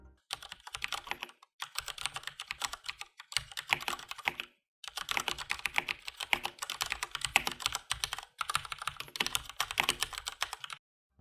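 Steady typing on a Durgod K320 tenkeyless mechanical keyboard fitted with Cherry MX Silent Red switches: rapid, soft, muted key presses in continuous bursts broken by short pauses, close-miked and fairly quiet.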